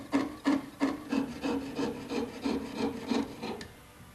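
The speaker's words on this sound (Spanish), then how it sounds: "Cada tanto lo vamos a encerar para que la sierra no se ponga seca, ¿no es cierto?, para que pueda correr mejor." A waxed hand saw cuts through a section in a workshop, with about a dozen steady back-and-forth rasping strokes, close and even, easing off at the end.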